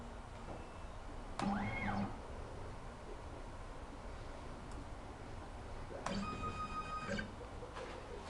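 The stepper motors of a MillRight CNC mill running Grbl whine briefly twice as the end mill is jogged, each short rising and falling electronic tone standing out from a quiet, hissy shop background.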